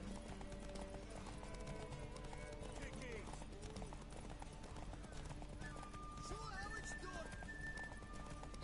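Hooves of a horse in The Witcher 3 game clop steadily at a run beneath talking voices and music, with whinnies breaking through.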